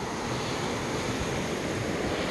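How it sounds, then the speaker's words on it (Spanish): Steady, soft broadband hiss of light drizzle falling outdoors in Jalapa, Guatemala, continuous and even throughout with no voices. "Incluso ahorita está, está lloviznando"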